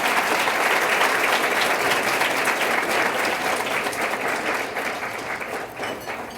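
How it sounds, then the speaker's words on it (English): A large audience at the 8th Annual César E. Chávez Celebration with Dolores Huerta applauds itself, a loud, dense wash of clapping that holds steady and then gradually fades toward the end. "please give yourselves a big applause for all of your great support that you've given to farm workers"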